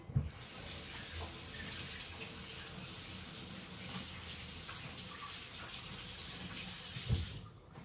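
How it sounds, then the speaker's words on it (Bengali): Steady gush of tap water running into a sink while hands are washed, a continuous close hiss lasting throughout with a couple of brief knocks near the start and end, no talking. "হাতটা ধুয়ে আসি"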